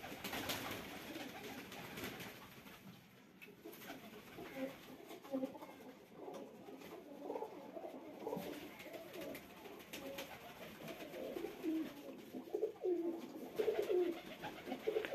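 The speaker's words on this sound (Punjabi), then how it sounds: "ਕਬੂਤਰ" Pigeons coo softly in a loose, repeating pattern at moderate distance, with a low murmur of ambient noise and occasional faint voices in the background throughout.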